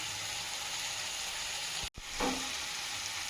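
Hot water hits a pan of frying food, producing a sharp close burst of bubbling sizzle that settles back into the steady frying hiss heard throughout, with no talking.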